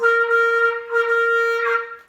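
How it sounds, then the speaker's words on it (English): A single sustained, reedy clarinet note played while biting hard on the mouthpiece sounds loud and close, with a tight, pinched and slightly harsh tone before it cuts off. "you're basically going to end up biting your clarinet mouthpiece really hard"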